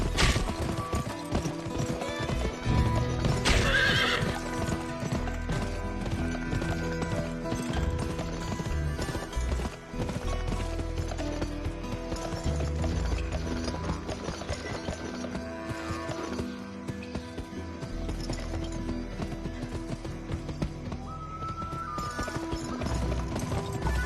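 Horses whinny and hooves clip-clop at the start of a three-lap horse race round a meadow in a computer game, the loud neighs and galloping set against a continuous game music bed with no talk.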